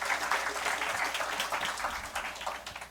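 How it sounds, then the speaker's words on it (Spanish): Dense, steady applause from a seminar audience on alternative dispute resolution, moderately loud and continuous for the whole three seconds with no voices over it. "Vamos a recibir con fuerte aplauso"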